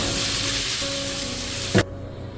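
Garlic sizzles and fries in a pan with a steady loud hiss. A short clatter comes near the end, and then the sizzle drops away abruptly.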